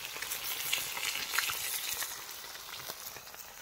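Fish frying in a pan gives a steady, moderately loud crackling sizzle with fine popping spatters throughout, heard close up and alone.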